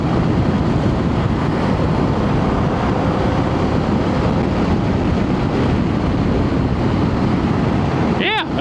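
2024 Harley-Davidson Pan America motorcycle cruising in sixth gear, a steady loud engine drone buried in heavy wind rush that runs unbroken for several seconds.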